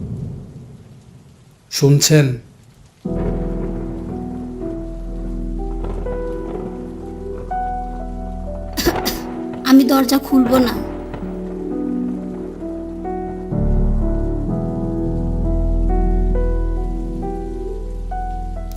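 Sudden rain with thunder in an animated story, loud cracks and rumbles with steady rain underneath, while a voice speaks over it.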